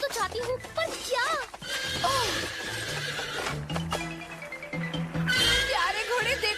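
A horse in a Cinderella story whinnies in a high, wavering neigh, then clip-clops over layered music and sound effects while voices talk.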